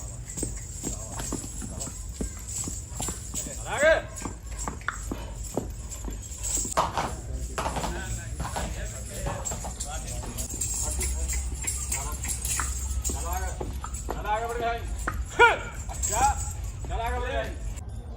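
A dancing horse's hooves clip-clop in a busy outdoor gathering, steady irregular footfalls under ongoing talk and crowd noise, with jingling like harness bells.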